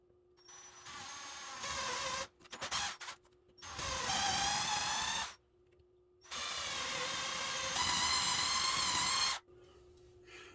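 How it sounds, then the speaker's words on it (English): A power drill whirs in two long, steady bursts close by, drilling lag screw holes in a wall for a TV mount, with a short stuttering run of the drill and brief pauses between them. "we'll go ahead and drill the top hole and the bottom hole"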